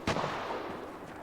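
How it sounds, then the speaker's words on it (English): Gunfire in the video game Vigor, a sharp shot at the outset followed by a long rumbling echo that fades out, heard from some distance with no talk over it. "We got gunshots directly underneath me."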